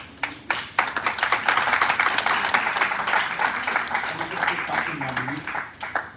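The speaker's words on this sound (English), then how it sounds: "can we clap for our fans?" An audience at a panel on regional air pollution cooperation in Africa claps for the panelists, with brisk scattered applause under overlapping talk and voices that carry through to the end.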